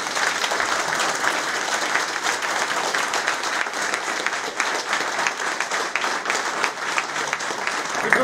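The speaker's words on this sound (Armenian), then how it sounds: "Ուզում եմ ծափահարենք" A crowd claps steadily at a military award ceremony where a commander receives the Hero of Artsakh title, a loud, even wash of applause lasting throughout.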